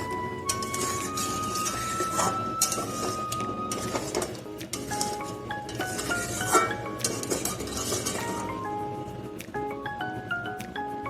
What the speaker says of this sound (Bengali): এটাকে কন্টিনিউ নেড়ে মিক্স করে নিচ্ছি